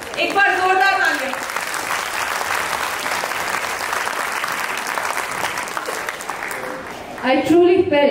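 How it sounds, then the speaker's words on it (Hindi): Loud applause from an audience at a school cultural event, a dense sustained wash of clapping that rises after a voice speaks and gives way to more talk near the end. "एक बार जोरदार तालियां।"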